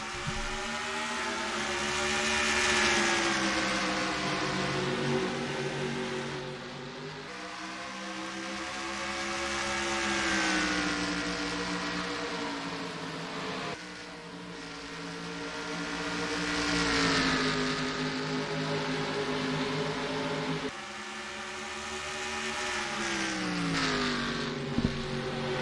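Engines of stock-car-style race cars rev and accelerate at the start of an oval race in a racing video game, a loud continuous roar with rising and falling pitch sweeps repeating every few seconds as the pack pulls away.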